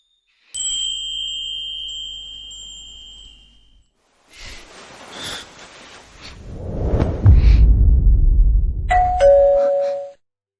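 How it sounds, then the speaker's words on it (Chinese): A doorbell rings in a drama scene: a sustained two-tone electronic chime, then rustling and a low rumbling thump, and a final short higher chime near the end. "这门铃声太刺耳了，不去看看也不行。"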